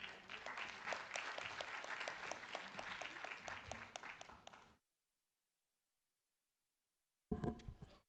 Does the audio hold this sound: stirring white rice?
no